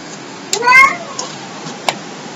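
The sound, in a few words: cat making noises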